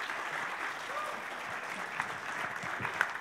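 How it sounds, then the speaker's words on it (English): Steady audience applause fills a conference hall at the European Resources Forum, a dense, even wash of many hands clapping with a few louder claps near the end. "can those two please get a big applause?"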